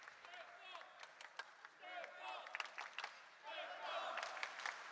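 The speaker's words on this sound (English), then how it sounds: "you can hear the crowd chanting for Stefan FEGERL" Spectators at the 2015 ITTF World Tour Polish Open table tennis final chant and applaud for one player, a rhythmic crowd noise that swells toward the end beneath a commentator talking.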